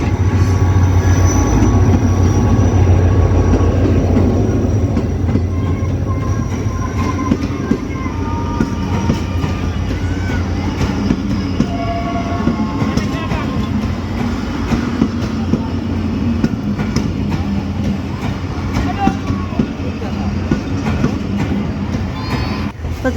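The 12 Down Hazara Express pulls into Bahawalpur station, a continuous rumbling train with rail clatter and wheel noise, loud and close the whole time, with faint voices in the background.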